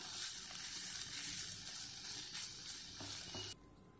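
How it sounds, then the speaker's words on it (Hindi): Mawa, or milk solids, roasting in a pan after grated coconut, giving a steady loud sizzle with stirring scrapes that drops suddenly to a quieter hiss near the end. "अब हम इसमें थोड़ा सा मावा भुनेंगे, जिससे कि इसका मॉइस्चर निकल जाएगा"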